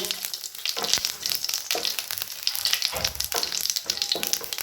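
Cumin seeds and two dried chillies sizzle and crackle in hot oil in a pan. The spattering is loud and continuous, with sharp pops scattered throughout.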